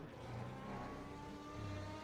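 A BMW race car on the Dijon-Prenois circuit accelerates as it comes downhill, its engine a steady, droning roar that holds fairly constant at a moderate distance throughout.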